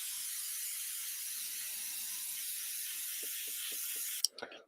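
A steady, continuous hiss of an airbrush spraying paint on a scale model kit, close and moderately loud, ending with a few soft clicks and knocks.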